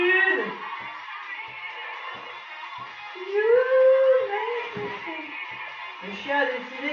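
A dog howls in long, rising and falling wails, loud and close, with a few whimpering yips mixed in during an indoor chair workout.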